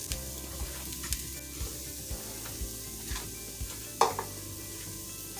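A spoon stirring chopped garlic into frying onions and potatoes in a pan, regular soft scraping strokes about twice a second over a quiet sizzle, with one sharper clink near the end.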